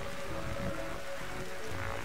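Steady rain hisses continuously at night in the video game The Darkside Detective, a dense even patter with a faint low tone running beneath.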